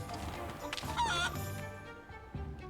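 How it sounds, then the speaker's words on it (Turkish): A chicken in Hogwarts Legacy clucks and squawks in a short run of calls over a background of game ambience, with no talking. "Tavuk."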